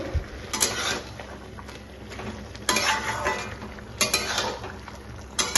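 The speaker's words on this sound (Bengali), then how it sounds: "এই যে এখানে ঝিঙে ভাজা চাপিয়েছি, পেঁয়াজ কুচিয়ে লঙ্কা দিয়ে তেলে দিয়ে" Ridge gourd frying in oil with chopped onion and green chili, a continuous close sizzle broken by several sharp bursts of a spatula scraping and stirring against the pan, with no talking.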